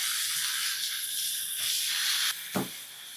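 Kurdai, a dried wheat snack, dropped into hot oil tempering, giving a soft continuous hiss and sizzle with a brief clatter near the end.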